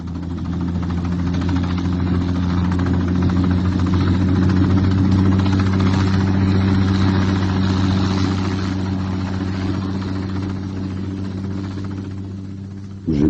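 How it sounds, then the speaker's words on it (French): A helicopter runs with a steady, droning engine hum and low tonal rumble, loud and continuous throughout with no voices. "Direction aérodrome d'Annecy, où un hélicoptère conduit les fugitifs à Monaco."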